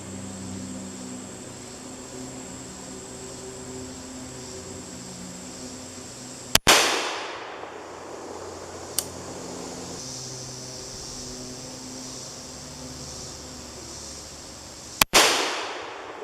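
Two loud, sharp rifle shots fired at a target ring out several seconds apart, each followed by a decaying echo, with a faint click between them over steady background hiss.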